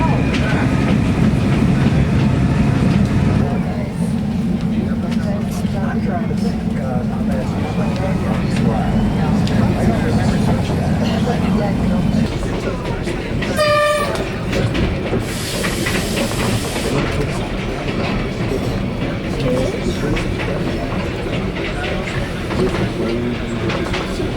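A Peruvian train ride rolls on with steady rumbling, hiss and rail clatter, a sharp squeal and a short burst of steam or air partway through, with faint voices underneath.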